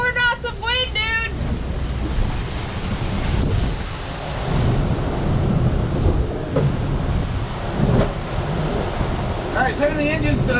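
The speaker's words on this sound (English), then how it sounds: "We're at 24 knots of wind, dude!" Strong gusting wind roars across a sailing boat at sea, a loud, continuous broadband rush with surf and water noise buffeting the microphone, and brief voices at the start and end.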